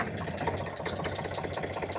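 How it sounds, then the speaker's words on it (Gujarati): A tractor engine runs with a steady, mid-pitched idling rumble, close and continuous, with no voices. "તે તો ટ્રેક્ટર ચાલુ કરી દીધું છે"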